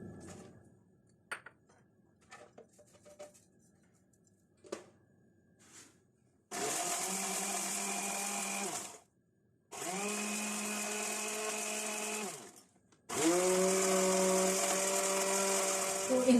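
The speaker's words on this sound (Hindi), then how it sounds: "यहाँ ब्लेंडर का जो जग मेरे पास है इसमें ये सारी चीजें डालते हैं और इनको ग्राइंड करते हैं" A kitchen blender grinds red chillies and garlic for chutney in three loud whirring bursts, each spinning up to a steady high-pitched roar and cutting off, after a few seconds of quiet handling clatter.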